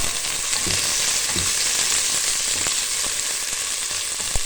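Food for a potato and chicken dish fries in a pan, a loud continuous sizzle broken by a few soft scraping knocks as pieces are turned over, with no talking.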